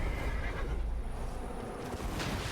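A horse in the video game Elden Ring: Shadow of the Erdtree neighs loudly and steadily over a constant background hum, a drawn-out whinny with no talking.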